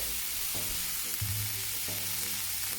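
A freshly flipped smash burger patty sizzles on a hot griddle with a steady, close crackle, broken by a few soft scraping or shifting thuds, and no voices.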